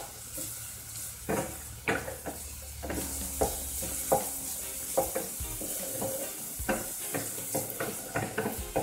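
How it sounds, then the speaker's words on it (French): Onions sauté in a pan for a sausage dish, a continuous gentle sizzle broken by frequent scrapes and taps of a utensil against the pan, close up and fairly quiet with no talking. "je fais revenir mes oignons"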